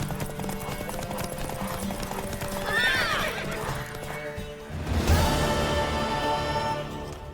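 A horse in The Witcher 3 video game galloping with rhythmic clip-clop hoofbeats and letting out a loud whinny, set within a busy game soundscape with music-like tones.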